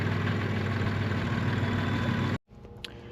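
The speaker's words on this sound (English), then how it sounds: "we got the tractor unloaded with the Greenscape 600 conservation seeder" A tractor engine idles steadily and loudly right after being unloaded along with a Greenscape 600 conservation seeder on farmland being turned to cow pasture, a constant low rumble that cuts off abruptly near the end, leaving faint background noise.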